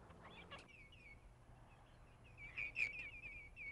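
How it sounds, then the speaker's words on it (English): Wintering birds at fish ponds near a river estuary give thin, high chirps and a short run of twittering calls, faint and distant over a quiet outdoor hush. "innumerable birds also pass the winter in the nearby fish ponds"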